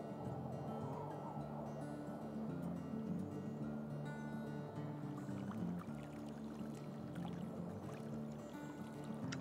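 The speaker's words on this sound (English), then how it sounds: "In order to hear the water." Flowing water in the WolfQuest game, a steady soft stream-like rush heard throughout at low level, with no talk.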